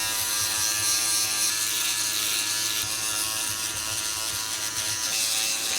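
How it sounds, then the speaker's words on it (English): A Philips electric razor shaves hair from fingers up close, producing a steady, loud mechanical buzz that runs unbroken throughout with a slight rattling texture. "I'm gonna shave my fingers here real quick."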